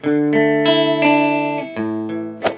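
An electric guitar played through an amplifier with a bright, treble-heavy clean tone, plucking a short run of sustained ringing notes, loud and close, ending in a sharp pick scrape.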